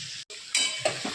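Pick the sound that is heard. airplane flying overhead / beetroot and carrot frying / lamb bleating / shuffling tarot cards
beetroot and carrot frying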